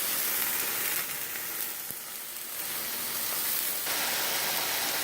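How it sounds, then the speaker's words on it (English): A pan full of chicken fries in hot oil, producing a dense, even sizzle and hiss that carries on steadily up close, with no voices. "We're gonna take our chicken and place it onto this very hot pan."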